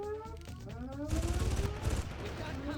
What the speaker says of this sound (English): You're supposed to shoot me.